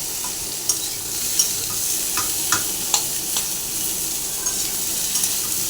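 Eggplant and potato curry sizzles softly in a pan under a steady hiss, while a spoon stirs and scrapes in several sharp ticks and clicks; no speech.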